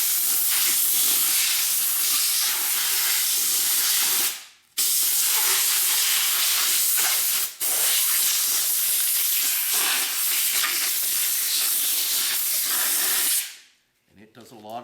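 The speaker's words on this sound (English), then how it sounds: "So now what I like to do is you take your air compressor," An air compressor nozzle hisses in loud, sustained blasts as it blows pieces of leaf mold off concrete leaf castings, with two brief pauses before a final cutoff.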